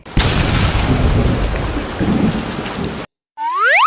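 A steady downpour with rolling thunder roars loudly in an animated scene, then cuts to a brief silence before the heavy rain returns with sharp swooping tones.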